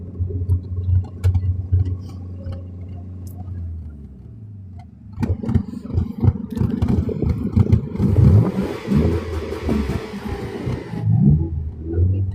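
A race car with a 1.6 engine and sport exhaust revs hard, a low droning idle building into loud, rising revs with rattly exhaust bursts that stay close and dominate throughout.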